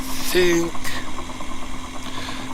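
A gyroplane engine throttles back in flight over Butte, Montana, giving a steady mid-pitched drone with a faint whine. A voice speaks over the engine near the start.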